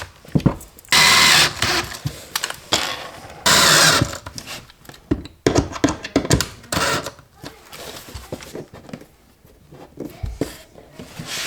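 A power drill bores holes through mobile home kitchen cabinets for water lines, with two loud, sustained whirring bursts of about a second each, followed by scattered knocks and handling clatter.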